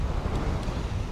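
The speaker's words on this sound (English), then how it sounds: "It's a tad windy down here." Strong wind on a seafront buffets the microphone in a constant low roar, with a hint of surf in the background.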